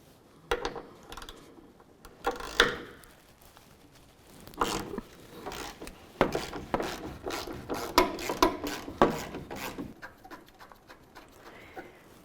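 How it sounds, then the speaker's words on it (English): Torx T50 screws being worked out of the driver's side tailgate hinge on a 2004-2015 Nissan Titan, with repeated ratcheting clicks and metal rattles in bursts, close and fairly loud. "We're going to continue on by removing each of our T50 Torx bit screws."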